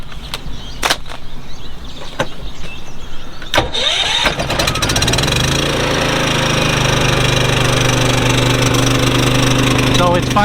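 An inverter generator on an RV starts in the cold: a few sharp clicks and pulls first, then the engine catches and settles into a steady, loud running drone.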